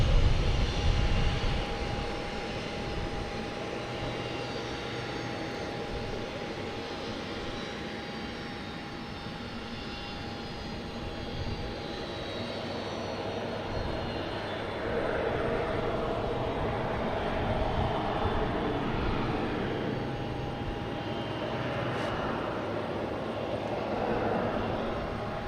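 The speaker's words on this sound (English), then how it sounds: "we have Turkish Airlines, an A350-900, coming in from Istanbul" A Turkish Airlines Airbus A350-900 arriving from Istanbul at Boston Logan Airport: a steady, loud jet roar with a thin whine runs unbroken for the whole stretch, swelling slightly partway through, with no voices.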